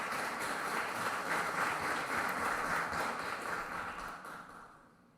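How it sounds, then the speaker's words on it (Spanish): Applause rises from the audience at a formal legal plenary session, a soft, dense wash of many hands clapping that holds steady and then tapers away into quiet. "Muchas gracias, un aplauso."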